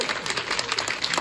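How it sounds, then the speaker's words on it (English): A brief burst of applause, many hands clapping together in a dense, steady patter from a crowd at a London film premiere. "Give a big round of applause to everybody"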